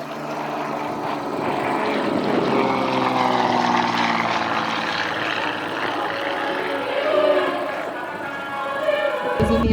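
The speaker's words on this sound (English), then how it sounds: "this is a CJ-6 coming by" A Nanchang CJ-6 propeller trainer passes at a warbird airshow, its piston drone loud and steady with a harmonic buzz that swells and fades slightly across the pass, under the general hum of the crowd.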